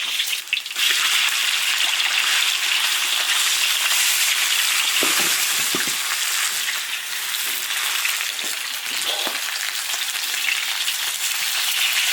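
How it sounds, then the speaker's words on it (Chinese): Fish bones from a black carp fry with ginger in an iron wok, a loud, steady, close sizzle that runs the whole time with a few faint clatters and scrapes. "把鱼骨头煎一下。"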